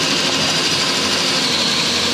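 A power drill whines steadily while boring dowel holes through mine shaft timber. The motor hum is continuous, close and fairly loud for the whole moment, and no one speaks.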